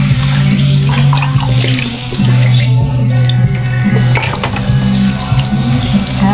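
Tap water runs steadily and loudly, briefly easing around two seconds before gushing on, with faint clatter over the continuous splash.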